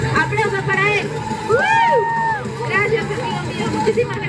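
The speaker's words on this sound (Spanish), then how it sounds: "¡Aplausos para él!" A crowd at a cosplay runway show at the Sugoi Alley 2024 convention cheers and whoops loudly, with shouts and chatter, a few rising cries, and steady babble throughout.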